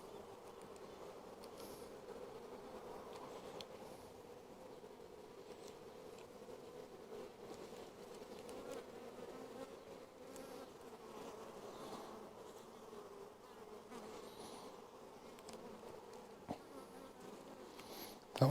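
A dense, continuous drone of many honey bees buzzing around a hive, steady and moderately close, with no talking.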